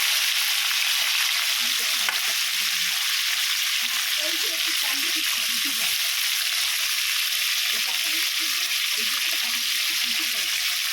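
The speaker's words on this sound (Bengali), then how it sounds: "আমাদের ঘিলু আছে, যে ঘিলু, এগুলো একটু ভেজে নিই" Crab brains and roe fry in a pan with a loud, constant hissing sizzle that fills the whole stretch, with soft low bubbling and stirring underneath.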